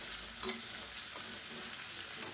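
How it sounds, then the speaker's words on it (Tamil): Onions sautéing in a pan for wedding-style sambar, a steady close sizzle with a few soft stirring scrapes and no talk. "வெங்காயம் வதங்குறதுக்கு உப்பு சேர்த்துக்கலாம்."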